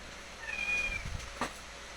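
A house cat meows while waiting to be fed some tilapia fish, one short, fairly faint cry close by over a quiet room with soft background noise.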